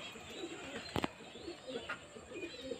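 A pet pigeon coos softly in a few low, rounded calls spread across a quiet moment, with one sharp knock partway through.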